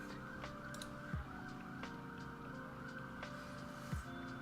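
Ambulance sirens wail faintly from the street outside a window, sounding distant and muffled against a steady background hum, with repeated rising and falling tones.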